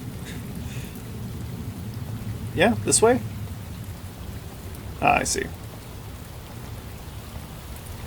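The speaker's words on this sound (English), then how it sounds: "Of course it's still raining" Steady rainfall with occasional rumbles in the Shadows of Doubt game, a constant hiss under brief bursts of talking, with two louder swells partway through.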